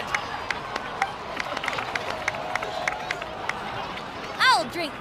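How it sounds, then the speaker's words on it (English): A crowd applauds and cheers in the video game Genshin Impact, a steady patter of many hands under a murmur of voices, ending with a brief bright chime-like flourish. "please give another round of applause for them"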